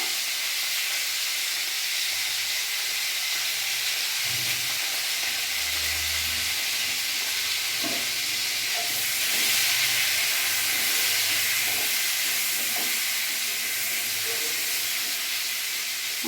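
Pointed gourd frying in oil with turmeric, a continuous loud steamy hiss and sizzle lasting throughout, with occasional faint clinks and low thumps underneath.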